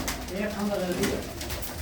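A female racing pigeon, held in hand and shown by its owner from Tarn Taran, gives a soft, low cooing phrase in the middle of the clip, with voices murmuring around it.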